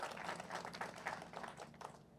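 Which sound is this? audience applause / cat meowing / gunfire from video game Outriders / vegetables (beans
audience applause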